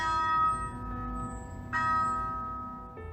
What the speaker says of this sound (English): students would ring this bell dedicated to his enthusiasm